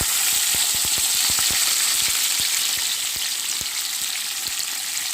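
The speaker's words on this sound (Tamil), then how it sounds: "இது எல்லாத்தையும் நல்லா வதக்கிக்குவோம்." Chopped onions, shallots and green chillies sautéing in a pan, a loud continuous sizzle close by, punctuated by irregular sharp pops and spatters, with no voices.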